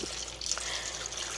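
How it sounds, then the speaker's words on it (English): Tap water runs steadily while raw chicken is rinsed in a home kitchen, a continuous hissing trickle with small splashes, fairly close, and no talk. "So I washed my chicken"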